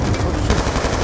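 Rapid gunfire from the Call of Duty Black Ops 2 video game, a dense continuous burst of automatic shots filling the whole second at steady loudness with no clear speech on top.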